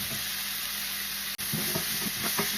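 Carrot and potato pieces drop into a pot for Kerala-style beef stew, setting off a steady close sizzle, then a brief break followed by stirring clatter and frying crackle, with no talk.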